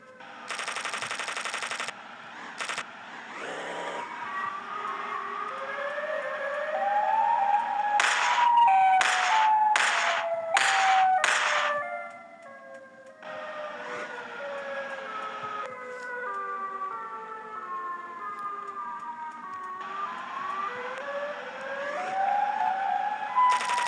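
The wailing siren of the Siren Head monster sounds in the video game Chicken Gun, rising and falling tones that repeat across the stretch, mixed with bursts of rapid gunfire, moderately loud with no talk.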